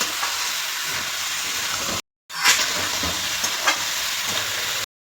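A spiced soup mixture with cumin powder sautés in a pan, a continuous loud sizzle with a brief cut in the middle and a couple of louder stirring bursts.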